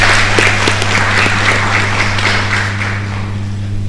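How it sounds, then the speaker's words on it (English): Sustained applause from an audience at an academic program in Ghana, a steady wash of clapping with a low hum beneath it, lasting the whole stretch without voices. "Shall we give all the sponsors a round of applause?"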